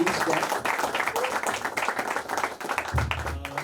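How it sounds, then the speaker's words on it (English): Crowd applause at a promotional event for a song, dense and steady for nearly four seconds, with speech mixed in underneath. "I think we should all give him a huge round of applause"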